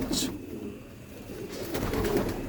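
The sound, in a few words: Patiala pigeons cooing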